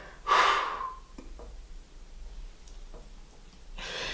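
A single strong breath out during a lower-core abs exercise, close and clear, followed by faint quieter breaths and small movements.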